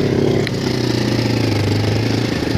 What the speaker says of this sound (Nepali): पछाडि ट्र्याक्टर आएछ है